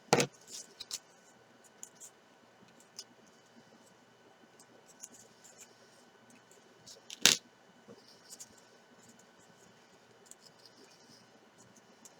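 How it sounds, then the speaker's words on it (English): Scored paper is folded back and forth and burnished while making a card ticket. Sparse crisp crackles and clicks stand out against a very quiet background, with two sharper snaps and faint rustles in between. "we're going to fold this back and forth on all the little score marks that we put in"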